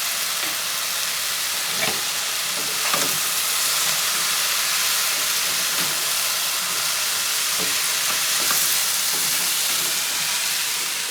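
Zucchini and squash sizzle steadily in a hot stir-fry pan, a continuous bright frying hiss with occasional soft pops and stirring clicks, close and even in level with no talking.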